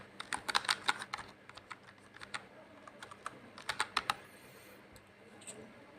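Keystrokes on a computer keyboard while details are entered into an online PAN card form, coming in quick clustered bursts with short pauses, moderately close in a quiet room.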